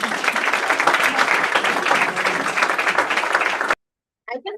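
Audience applause at a United Nations side event, steady, dense clapping from a full room that stops abruptly, followed by a brief moment of silence and then a short burst of speech.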